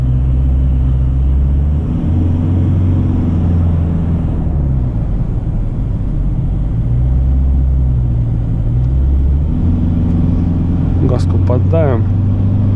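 An Isuzu D-Max Arctic Trucks pickup accelerates on the road, its engine droning loud and steady from inside the cab while pitch rises and falls through gear changes, with a voice briefly talking over it.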